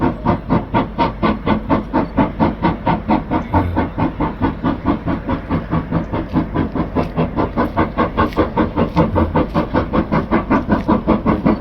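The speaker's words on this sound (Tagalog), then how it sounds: "para ma-videohan lang itong train na dumadaan dito sa Highlands" A steam train crosses Glenfinnan Viaduct in the Scottish Highlands, its loud, steady chuffing beats repeating evenly throughout over a hissing rumble.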